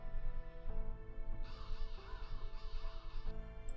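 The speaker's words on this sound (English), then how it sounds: "they just make crow sound effects" Crow caws from a Fate/Grand Order game, a run of harsh repeated calls over a steady droning music bed, fairly loud with no talking.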